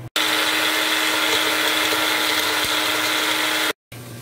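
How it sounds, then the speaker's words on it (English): An electric grinder whirs loudly and continuously as it grinds dry roasted biryani masala spices, cutting off briefly near the end before restarting. "We are going to grind the masalas which we had roasted."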